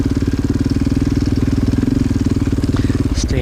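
Quad ATV engine on a steep, tree-lined trail, chugging steadily at low throttle with a close, pulsing putter throughout, loud and continuous.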